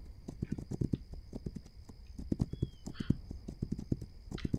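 A horse clip-clops at a steady walk in the video game This Land is my Land, rhythmic close hoofbeats with a brief snort, and a voice speaks faintly over them.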